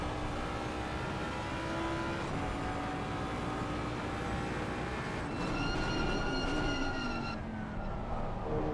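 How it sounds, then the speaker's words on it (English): High, squealing brake tones ride over a steady engine roar in a racing video game at Zolder, sliding and holding, then breaking off, with a racing engine droning throughout. "Squeaking of the brakes."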